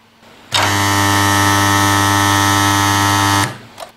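Spot welder before its upgrade running a 2.5-second weld, giving a loud, steady buzzing hum that starts abruptly and cuts off cleanly, close and with no talk.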